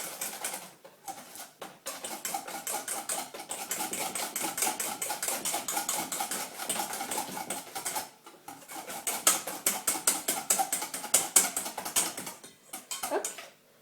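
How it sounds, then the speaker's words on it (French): A whisk beats chocolate cake batter for a microwave cake in a bowl, giving rapid, dense clicking and tapping strokes that run almost without pause, with one brief gap and a livelier second stretch. "A l'aide d'un fouet, nous allons remuer jusqu'à ce que le mélange soit homogène"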